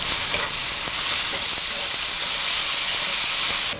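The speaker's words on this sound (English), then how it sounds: "add chopped cilantro and mint leaves. Then mix well." Chopped cilantro and mint get stirred into a shrimp biriyani in a hot pan, giving a loud, continuous sizzle and hiss with soft scraping from the stirring.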